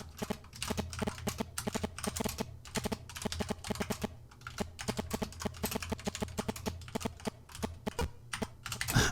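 Rapid, uneven keystrokes clatter on a computer keyboard, with bursts of clicks and brief pauses as someone types, stumbling on capitals and doubled letters, close and fairly quiet.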